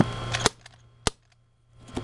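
Y&P Beretta M9 green gas airsoft pistol firing close by: two sharp, loud cracking shots about half a second apart, with a fainter click between them and a softer pop near the end, each trailing off quickly into near silence.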